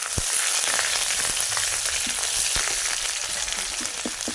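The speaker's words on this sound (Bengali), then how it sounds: "গোটা জিরে আর একটু কালো জিরে ফোড়ন। নেড়ে দেবো।" Whole cumin and nigella seeds crackle in hot oil over an earthen stove while tempering for tomato dal: a loud, unbroken sizzle peppered with rapid pops and spits, close up, with a few stirring knocks and no speech.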